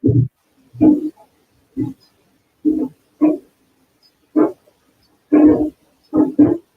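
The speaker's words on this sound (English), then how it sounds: "We hear someone's dog barking." A dog barks repeatedly, about ten sharp barks in irregular pairs and singles, fairly close, with quiet gaps between them.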